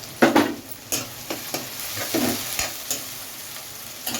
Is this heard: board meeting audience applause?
no